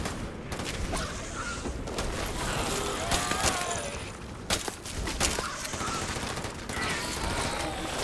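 Rapid gunfire in Starfield, dense bursts of automatic shots rattling almost continuously with metallic clanks and impacts, loud and close.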